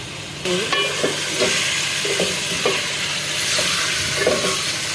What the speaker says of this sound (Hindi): और गोश्त को भून रहे हैं